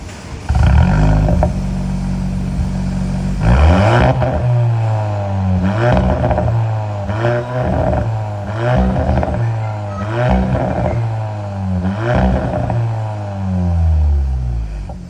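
A Cupra Formentor 1.5 TSI with a valved performance exhaust roars through several hard revs, rising and falling in pitch, loud and close, with deep rumbling between each blip.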